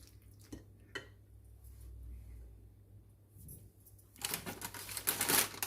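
A spoon mixes spicy chana chaat in a bowl, making scattered soft clicks and taps that build into a louder run of scraping and clinking near the end.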